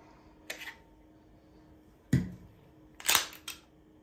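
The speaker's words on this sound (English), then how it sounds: "And we take the Glock mag out" Magazine being removed from a Glock 17L pistol: a few sharp metallic clicks and clacks, close and distinct, separated by short pauses, with one louder double snap near the end.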